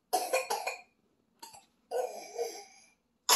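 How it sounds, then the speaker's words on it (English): Several dry coughs come in short bursts, close and fairly loud, separated by brief silences. "so people don't have to listen to coughing"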